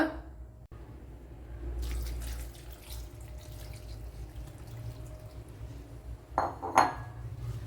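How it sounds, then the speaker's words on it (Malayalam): Water poured into a pan of okra curry (vendakka theeyal) with turmeric and cut okra, a steady splashing pour running under faint kitchen clatter, with brief utensil clinks near the end. "ഇനി ഇത് വേകുവാൻ ആവശ്യമായ വെള്ളം ഒഴിച്ചു കൊടുക്കുക"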